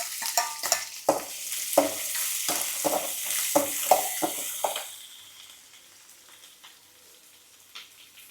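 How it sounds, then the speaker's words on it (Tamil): Garlic frying and sizzling in oil in a pan with onion and green chili for a curry leaf tomato chutney, loud close hiss with stirring scrapes that settles to a softer steady sizzle. "வெள்ளைப்பூண்டு போடுறேன்."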